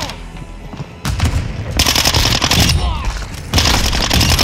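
Dense automatic gunfire in Call of Duty Modern Warfare 2 multiplayer, loud and close, with sustained rattling bursts that swell after a brief lull, heavy low booms underneath.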